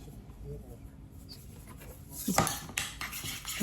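Spices stirred into food in a pan, with quiet background noise at first, then a few close scraping clinks of a utensil against the pan toward the end.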